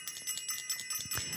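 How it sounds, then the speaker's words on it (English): A bell rings with bright, sustained high tones, struck a few times in quick succession, close and fairly soft, with no talking. "I'm going to ring the bell again"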